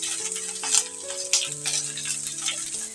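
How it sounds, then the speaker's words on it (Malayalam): Onion, beans and carrot get stirred in a frying pan, with a steady sizzle and scraping through the whole stretch and a few louder clatters. "ഒന്ന് ഇളക്കി കൊടുക്കാം."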